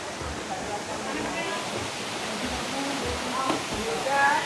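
Valasa waterfall in Maredumilli pours in a steady broadband rush, close and continuous, with faint voices murmuring beneath the water noise.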